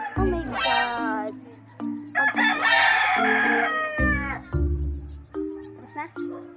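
A rooster crows in loud, near, drawn-out calls, with chicken clucks and people talking in between and over the crowing.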